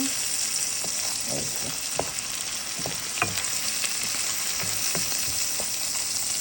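An egg hitting hot oil in a pan for egg fried rice gives a strong, steady crackling sizzle, with a few light spatula taps scattered through it. It sounds close and continuous, with no speech.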